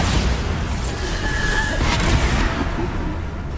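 Bombarda spell blast from the Hogwarts Legacy video game, a loud dense booming explosion with rumbling debris that fills the whole stretch, with no voice over it.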